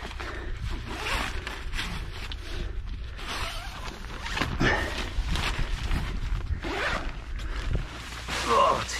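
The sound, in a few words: zipper on a two-man dome tent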